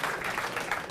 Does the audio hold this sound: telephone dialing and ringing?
no